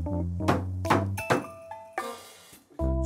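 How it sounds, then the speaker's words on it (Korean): A priest's stick thumps once in a ritual, a single dull knock among other hits and tonal sounds in a close indoor space, with no talk over it. "다시 제사장이 막대기 쾅 한번 하고"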